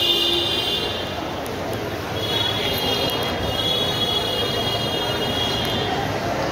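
Railway station ambience with a train: a steady broadband rumble of rolling rail traffic, with faint high metallic squeals drifting in and out over the continuous din.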